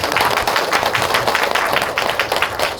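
Audience applause at a meditation lecture in Cheongju, a dense, steady clapping that fills the hall for a few seconds with no voices over it.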